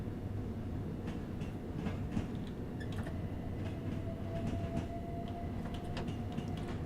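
A Class 377 electric train runs on the remastered East Coastway route in Train Sim World 6, with a continuous rolling rumble, a faint steady whine, and scattered clicks and creaks from the carriage.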